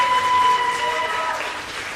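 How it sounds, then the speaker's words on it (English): Applause from the audience at a Rotary club meeting, a brief burst of continuous clapping with a faint tonal hum running underneath. "how about one more round of applause for Katie?"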